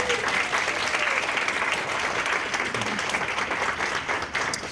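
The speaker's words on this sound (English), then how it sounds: "Let's all give Laura a round of applause" An audience at an awards luncheon applauds steadily, a dense wash of clapping that holds at an even, loud level throughout.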